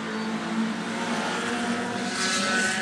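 Race cars at a super short track event, many of them Hondas, roar past together in a continuous loud engine drone that swells and brightens toward the end as the pack comes through.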